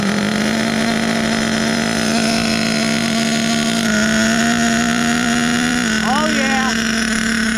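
Small 1/8-scale HPI Savage XL nitro RC truck engine, K5.9, idling loud and steady close by with a brief rev near the end, while a person speaks over it.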